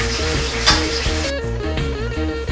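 Meatballs simmer in tomato sauce in a pan, giving a steady close sizzle and bubbling with a few soft stirring clinks, with no talking.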